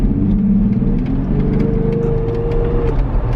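A Jeep engine with a cold air intake idles and revs close by, a low steady rumble with a rising, held tone as the throttle opens, alone without voices.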